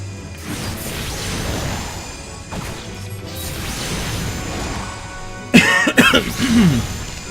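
A couple of harsh coughs burst out near the end after several seconds of steady low background noise.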